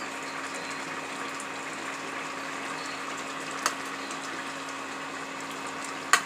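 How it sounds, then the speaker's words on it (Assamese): Sponge gourd and potato curry boiling in a pot, a steady soft bubbling hiss with a faint hum underneath and a couple of brief clicks. "চব্জি কেনেকৈ উতলি আছে"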